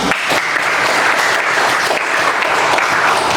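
Classroom applause fills the space, steady, dense clapping from many hands close by, sustained evenly without a break.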